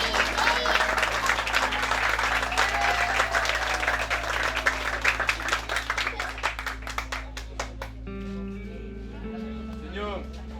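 A seated audience at a community advocacy event breaks into loud, dense applause that gradually thins into scattered claps, with a voice speaking over it and a steady electrical hum beneath.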